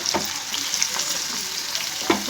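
Chopped onions hiss and crackle in hot oil in a pan as the base for a prawn curry. The sizzle stays steady, with a few soft stirring scrapes and clicks.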